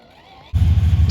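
A 1978 Dodge W200 crew cab 4x4 suddenly roars to life as the gas is pressed, a loud, deep, throbbing engine rumble cutting in after near-silence.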